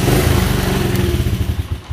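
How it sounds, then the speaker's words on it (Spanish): A motorcycle engine fires up on the electric starter and settles into a loud, steady, rumbling idle with rhythmic low pulses throughout. "la moto prende incluso ya con el automático."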